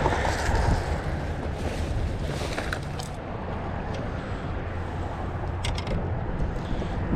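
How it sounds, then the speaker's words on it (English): Strong wind buffets across a bridge over Tampa Bay, a continuous, rough roar with gusty swells and scattered knocks, and no voices. "super windy, as you can tell."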